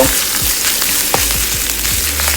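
Field rat is stir-fried with pickled bamboo shoots in a loud, hissing sizzle. Repeated scraping stirs of the spatula sound close up.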